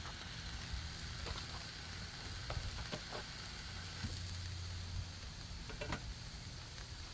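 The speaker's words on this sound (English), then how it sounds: "Vegetables are searing." Vegetables sear on a Blackstone griddle beside sirloin steak bites, giving a steady, soft sizzle with faint ticks and scrapes and no talking.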